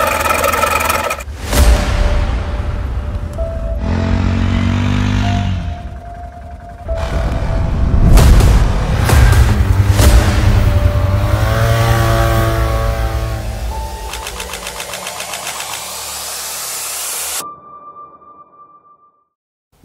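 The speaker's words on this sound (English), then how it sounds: "This is what a bad one-way bearing sounds like." Running engine with a bad one-way bearing, rough mechanical drone with whirring and revving surges and a metallic edge, loud and close, dropping off abruptly near the end.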